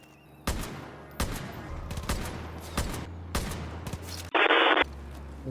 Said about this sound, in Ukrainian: Якого він з ракетниці стріляє?